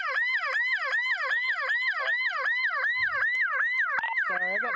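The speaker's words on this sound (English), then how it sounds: "I gotta turn that siren off. It's gonna drive me nuts." A police car siren wails loud and close in a fast, regular up-and-down yelp, repeating steadily throughout before the pattern shifts briefly at the end.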